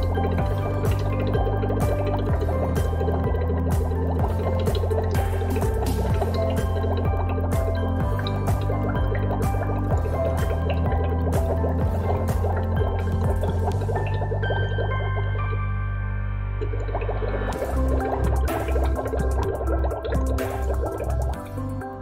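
Breath blown through a straw into a glass of Starkey spring water during a pH test, steady bubbling and gurgling with dense drips, loud and close throughout.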